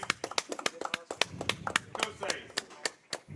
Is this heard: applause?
yes